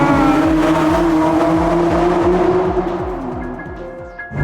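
A Nissan GT-R33 pulls hard in second gear after a downshift, its engine note rising in loud, repeated climbing sweeps close by, then easing off near the end with no voices over it.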